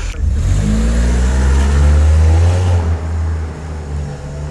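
A 3-litre BMW X5 accelerates hard, its engine roaring loud and close with a rising drone that eases off toward the end.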